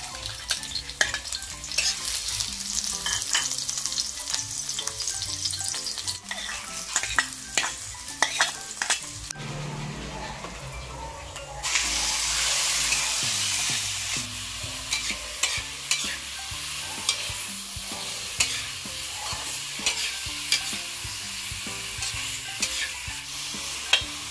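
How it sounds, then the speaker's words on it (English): Ginger, onion, garlic and pork sautéing in a pan for Bicol Express, with steady frying sizzle and frequent clicking spatula scrapes, the sizzle surging louder partway through. "First, saute ginger, onion, garlic, and pork."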